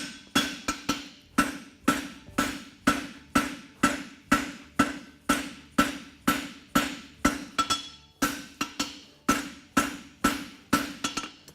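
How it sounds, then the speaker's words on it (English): Steady, rhythmic hammer blows ringing on sheet metal, roughly two strikes per second, close and sharp with brief pauses between bursts, as wrinkles are worked out and a corner blended with the hammer's round face. "take the round of my hammer and just blend the corner in"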